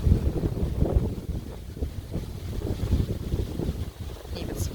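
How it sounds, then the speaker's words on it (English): Strong wind buffets the microphone outdoors on an overcast October day among garden flowers in northern Nevada, a continuous low rumbling roar with gusting swells throughout. "Super windy today and a little bit overcast, but still beautiful."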